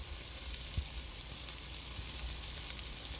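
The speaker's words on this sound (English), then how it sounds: "we're letting the onion fry" Onion frying in a pot with onion powder and garlic powder, giving a steady, close sizzle throughout, broken by a few faint low knocks and no talking.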